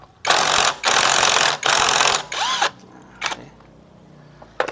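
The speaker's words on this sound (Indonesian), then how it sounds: "Nah, kita gunakan impact." An impact wrench loosens the magneto bolt on a Supra X 125 motorcycle in three loud close bursts of rattling whir, followed by a weaker burst and a few faint clicks.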